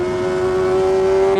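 Kawasaki ZX25R motorcycle engine holding a steady, high-pitched whine with rich harmonics while riding, loud and close throughout.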